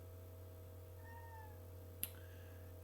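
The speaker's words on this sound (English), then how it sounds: "If you hear a meow, that's Luna." A pet cat named Luna gives two short, rising meows close by, over a steady low electrical hum in a quiet room, followed by a single sharp click.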